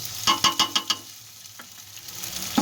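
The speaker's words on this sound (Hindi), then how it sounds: "इसको भी हम थोड़ा सा फ्राई कर लेंगे।" Garlic ginger paste frying in a pan for white beef pulao, with a quick run of five or six scraping stirs up close followed by a soft steady sizzle and one more scrape at the end.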